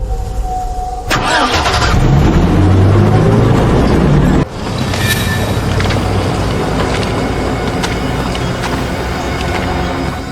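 A bus engine cranks and catches with a loud rising roar, then drops to a heavy rumbling drive as it pulls away, close and dominant throughout.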